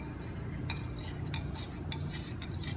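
Soil solution stirred in a laboratory beaker, with a series of light clinking taps from the stirring tool against the container over a faint steady background hiss.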